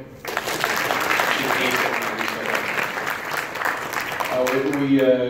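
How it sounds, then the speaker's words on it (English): An audience at a MegaCon 2017 comics panel gives a steady round of applause for Rachel, the photographer, with dense clapping throughout and a voice coming in near the end. "Round of applause for Rachel"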